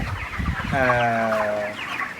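Broiler chickens on a poultry farm make a single drawn-out clucking call that stands out close by over a constant background hum and murmur of the flock.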